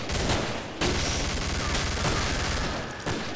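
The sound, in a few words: blaster gunfire in video game Killing Floor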